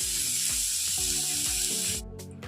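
Spice paste fries in hot oil for a cabbage dish cooked with Gobindobhog rice, a steady loud sizzle with a faint tonal hum and soft periodic thumps, dropping quieter near the end.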